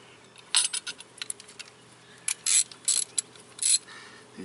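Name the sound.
Crescent socket ratchet turning 12 mm bolts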